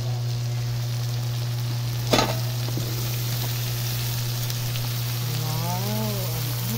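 Chicken and broccoli frying in a pan give a steady, close sizzle throughout, with a sharp clatter of the pan or utensil near the start and a steady electrical hum beneath.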